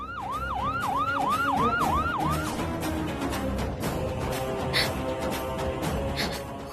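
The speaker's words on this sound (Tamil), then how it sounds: "ஆம்புலன்ஸ் சத்தம் இந்த போன்ல இருந்து கேட்டிருக்குமோ?" An ambulance siren wails loudly in a fast, repeating yelp for a couple of seconds, then fades into busy traffic noise and a blaring horn.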